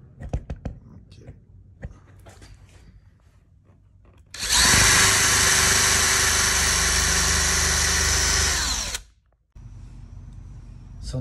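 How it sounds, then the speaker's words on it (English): Loud, steady whine of a power drill driving a hole saw through a garage door for about five seconds, preceded and followed by quieter handling noises and faint voice. "I'm just going to go drill a hole using my hole saw"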